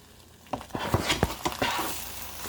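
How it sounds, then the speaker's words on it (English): A spatula scrapes and taps while mixing egg in a hot pan beside toast, a string of close, irregular clicks and scrapes over a soft sizzle. "And then I'll start mixing up the egg with my spatula."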